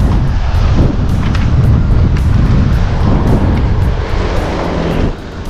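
Strong wind buffets the microphone with a loud, continuous rumbling roar and gusty bursts, with no voices.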